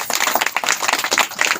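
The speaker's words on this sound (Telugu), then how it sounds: "చప్పట్లు కొట్టండి ఒకసారి" A gathered audience at a devotional discourse claps briefly, loud and close, a quick burst of overlapping hand claps with an uneven rhythm.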